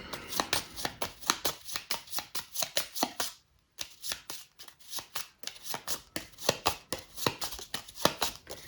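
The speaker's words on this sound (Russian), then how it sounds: "добавляем карту Шута, перемешиваем." Tarot cards being shuffled by hand, a fast rhythmic run of crisp riffling slaps close up, broken by a short pause midway before the brisk shuffling resumes.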